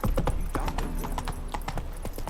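Roach, the horse in The Witcher 3, gallops along. The hoofbeats are close and rhythmic, a rapid clip-clop that carries on steadily the whole time.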